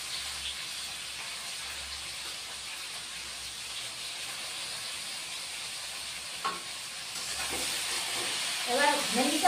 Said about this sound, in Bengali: এবার ভেন্ডিটাও ভেজে নিব।